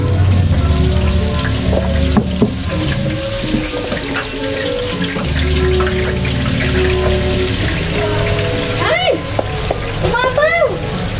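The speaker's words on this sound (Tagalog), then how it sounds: "nagsalang na nga ako ng mantika sa kawali at hinintay ko lang itong uminit" Cooking oil sizzles in a pan as chili is poured in, a loud continuous hiss and crackle that boils up, with a voice speaking over it.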